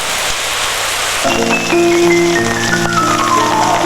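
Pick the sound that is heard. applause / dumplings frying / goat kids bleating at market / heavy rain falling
heavy rain falling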